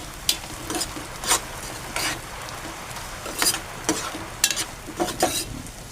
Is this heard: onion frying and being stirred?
yes